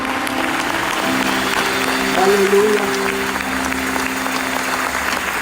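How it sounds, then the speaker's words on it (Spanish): Church congregation applauding in a steady wash of clapping, with a voice calling out briefly in the middle and sustained musical tones beneath. "Denle un fuerte aplauso a Cristo."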